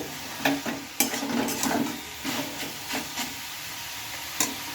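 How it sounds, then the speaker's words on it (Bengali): Fried soya chunks being stirred into masala in a pan, with a low background sizzle punctuated by repeated scraping strokes and clinks of the spoon at an irregular rhythm, close and moderately loud. "মশলার সাথে আমি ভালোভাবে সয়াবিনটা মিশিয়ে নিয়েছি"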